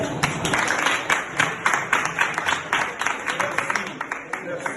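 High school students applaud at a school library launch in Dumay, a dense, steady patter of many hands with a few sharper bursts, voices mixed in throughout.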